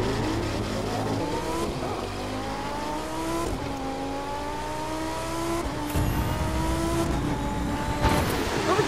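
Racing car engine in The Crew 2, a Cobra, revving loudly and steadily with rising and falling pitch through gear changes, tires and passing traffic mixed in, no talk.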